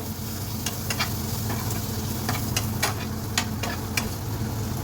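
Spoon stirring fried spice masala with ginger and green chilli in a pan while making malai chicken, soft scraping strokes over a steady low sizzle close by.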